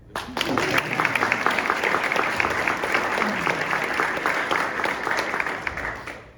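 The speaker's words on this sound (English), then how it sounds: "You can applaud." Audience applause at a POW/MIA Recognition Week opening ceremony at McChord Field, a dense, steady round of clapping from a sizable crowd lasting the whole stretch, with faint voices beneath it.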